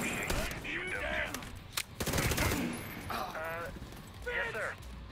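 Gunfire in the video game Tom Clancy's The Division 2 during the Jefferson Plaza mission, several loud sharp shots and bursts mixed in with game dialogue.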